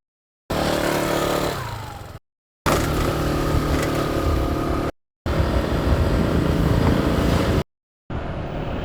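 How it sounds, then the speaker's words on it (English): Motorbikes and scooters roar past on a busy road in Canggu, Bali, a steady loud engine drone in several bursts separated by short gaps. "Motorbikes flying past on both sides."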